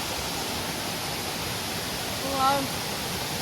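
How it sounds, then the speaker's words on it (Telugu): A steady, dense rush of small waterfalls fills the scene nearby, unbroken and even, while a person's voice briefly rises over the flowing water. "చిన్న వాటర్ ఫాల్స్ పోతున్నాయి."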